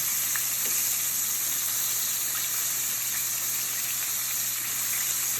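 Veal and pork pieces frying in a pan, a steady soft sizzle with faint crackles, even and continuous at a moderate distance with no talking.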